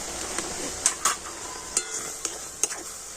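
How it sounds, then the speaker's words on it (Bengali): Semolina being stirred into a stiff dough in a pan, with sugar and a pinch of salt added: a spoon scrapes and knocks against the pan in irregular clinks and scuffs over a steady faint hiss, with no talking. "তো এখন আমি সুজিটা নাড়াচাড়া করে শক্ত ডো তৈরি করে নেব।"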